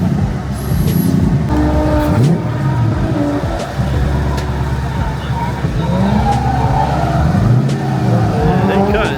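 A modified car's engine revs hard at a car show, loud and continuous with rising and falling throttle sweeps over a steady low rumble, crowd voices mixed in.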